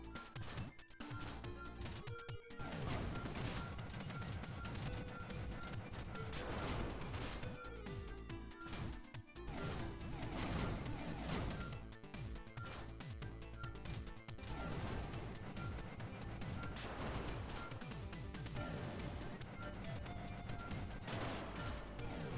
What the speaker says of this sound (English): this explosion may look small, like it may look low-key small, but if you're not careful, though, you can still hurt yourself